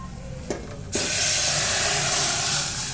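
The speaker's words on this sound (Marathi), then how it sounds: "आता आपण याच्यामध्ये डाळ टाकून घेऊ" Cooked toor dal is poured into a hot turmeric tempering for a Kolhapuri-style dal fry. Two small clinks come first, then a loud, sudden sizzling hiss that holds steady as the dal hits the hot oil.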